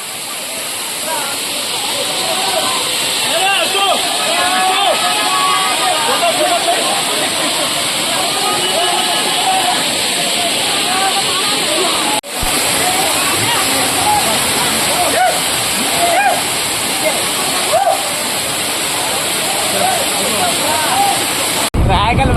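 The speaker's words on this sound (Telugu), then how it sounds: "రాయకాల్ వాటర్ ఫాల్." Rayakal waterfall roars in a loud, unbroken rush of falling water close by, a dense steady wash that fills the whole stretch, with a brief dip midway.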